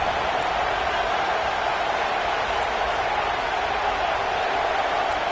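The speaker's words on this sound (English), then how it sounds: "The Tide crowd rolling noise down onto Saban Field on 3rd down." Alabama Crimson Tide home crowd in a football video game, a dense steady roar of stadium noise rolling down on third down, loud and unbroken throughout.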